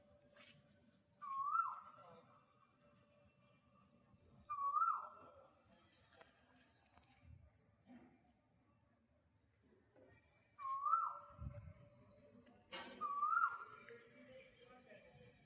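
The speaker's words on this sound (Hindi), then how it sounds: "कहाँ से बोल रही है ये कोयल।" An Asian koel calls from somewhere out of sight: a few spaced, rising whistled notes in small groups, moderately loud and carrying over a quiet background.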